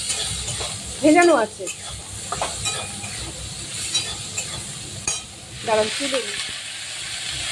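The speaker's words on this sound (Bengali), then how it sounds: "বেগুনটা সুন্দর করে ভেজে নিচ্ছি।" Eggplant slices fry in a pan, giving a steady hiss and sizzle close by with occasional stirring scrapes. Someone talks intermittently over the cooking.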